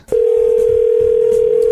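A steady telephone dial tone hums loud and unbroken for nearly two seconds before a call is placed, with faint clicks underneath.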